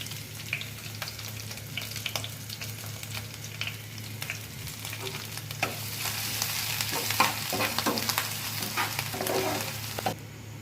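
Ginger garlic paste fries in hot oil with red chillies for a chicken fry, giving a continuous close sizzle broken by stirring scrapes, and it grows busier toward the end.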